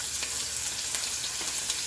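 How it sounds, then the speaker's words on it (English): Short ribs sear in a cast iron pan with a steady, close, loud sizzle and spitting crackle, heard alone without talk. "Right, get that sizzle going, or as Anne Burrell calls it, get that appla"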